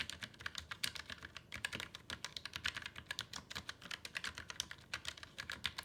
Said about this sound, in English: The mechanical keys are known for their tactile feel and creamy sound.